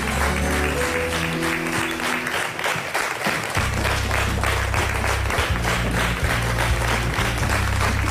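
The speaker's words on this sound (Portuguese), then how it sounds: "Um grande aplauso." A television studio audience gives sustained, loud applause on a Portuguese afternoon talk show. The clapping is steady and dense throughout, with low music tones running beneath it.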